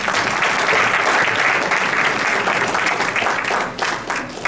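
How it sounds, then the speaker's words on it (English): Audience applause at a Chicago mayoral candidate forum, a full room clapping loudly and continuously for several seconds, thinning slightly toward the end. "Will you please give them another round of applause?"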